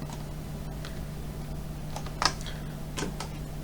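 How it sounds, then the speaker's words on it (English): A few soft, scattered key presses on a computer keyboard, with quiet clicks over a low steady hum. "hold Ctrl Alt and press home button in your keyboard"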